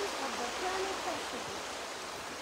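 A river in Romania rushes in a steady, broad wash of flowing water that is loud and close, with faint voices mixed in near the start.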